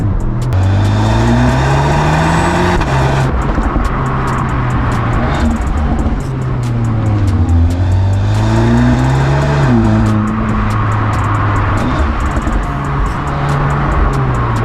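A 2021 Audi S3 Sedan engine revs and accelerates loudly from inside, its pitch climbing and dropping through repeated gear changes across a sustained, powerful pull.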